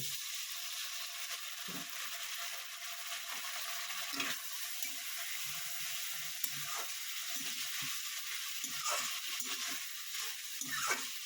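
Spice masala sizzling and frying steadily in a pan for a begun, aloo and tangra fish curry, a continuous close hiss with occasional soft stirring scrapes, no voices.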